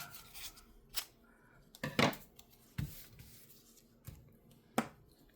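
Scissors snip a small slice from a scrap of blue paper during board making, giving a handful of short, close, crisp cuts separated by brief pauses.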